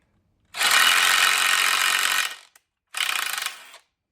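Quarter-20 threads being power-tapped into a cross bar, a loud whirring, ratcheting mechanical run of about two seconds followed by a shorter second burst after a brief pause.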